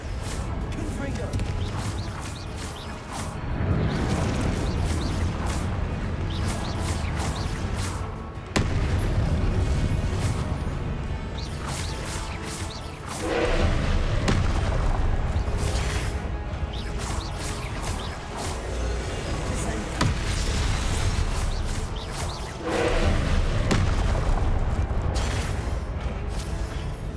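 Confringo spell explosions in a video game with weak gear against stronger enemies, heard as repeated loud booms and crashing blasts over a dense, continuous battle din, with voices speaking throughout.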